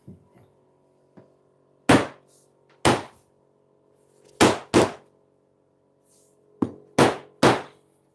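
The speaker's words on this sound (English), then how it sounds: "I'm just going to get hold of the clamps" Metal clamps being handled and tightened on a farm, heard as a series of sharp knocks and thunks in irregular clusters, close and fairly loud against quiet background hum.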